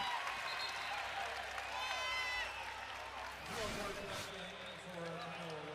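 Arena crowd at an NCAA men's volleyball match between Hawai'i and Long Beach State cheers and applauds steadily, a dense roar rising briefly near the end, with an announcer talking over it.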